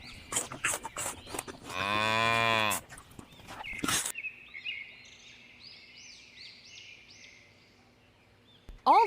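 A cow moos loudly once in a long, low, harmonic call, with sharper knocks before it and faint bird chirps and a thin steady tone in the quiet background afterward.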